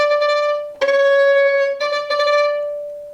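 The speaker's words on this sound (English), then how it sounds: "the bow is tense, so it's going to sound like this" Violin bowed on a single sustained note with a tense bow grip, the tone bright and harmonically rich, broken by a few scratchy catches and bow restarts before fading out.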